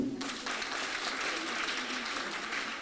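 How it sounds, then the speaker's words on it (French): An audience applauds at a Tohourou culture festival in Saioua, a dense, steady wash of clapping that starts almost at once and holds at an even level throughout, with no voices rising above it. "j'aimerais que vous l'applaudissiez"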